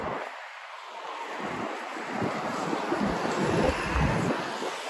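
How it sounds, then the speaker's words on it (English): Gusty wind buffets the microphone outdoors in Midtown Manhattan, New York City, a low rushing roar that swells and fades over a few seconds. "it's windy out now"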